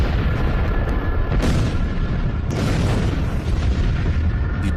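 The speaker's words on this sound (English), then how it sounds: "the fireball entered our atmosphere and violently exploded above" A meteor fireball explodes in the sky above Siberia's Tunguska forest, heard as a dramatic deep booming roar with a couple of sharp blast onsets over continuous rumbling.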